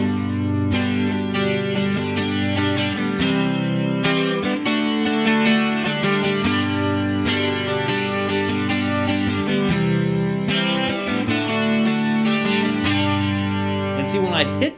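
Electric guitar with effects strums a chord progression in the Ionian mode, steady and continuous for several bars, loud and upfront with no talking.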